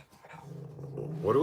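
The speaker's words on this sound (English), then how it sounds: "what are we barking at?" A dog growls low and steadily, building toward louder, sharper barking at the end, close by and under the sound of a person's voice during an indoor livestream.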